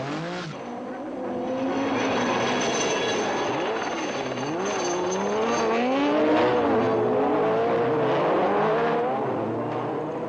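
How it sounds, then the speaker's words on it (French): Rally cars, a BMW, a Seat Cordoba and an Opel, race off-road at a 1996 Andros Trophy sprint at Château de Lastours, engines roaring and revving steadily at close range as they battle for position. "pour la troisième place entre la BMW d'Herbert, la Seat Cordoba de Ludovic Faure et l'Opel de Marco Allen"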